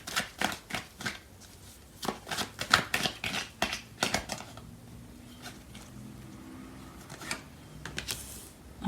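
Tarot cards being shuffled and drawn in a series of quick, close papery riffles and flicks, with bursts of rapid card snaps separated by brief pauses and a softer stretch in the middle.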